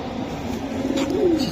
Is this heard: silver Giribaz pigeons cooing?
yes